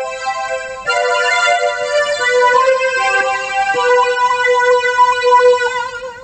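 A Casio CTK-series keyboard tone edited with phaser and reverb sustains a bright, shimmering chord with rich overtones, swelling slightly as notes change, loud and alone without talking.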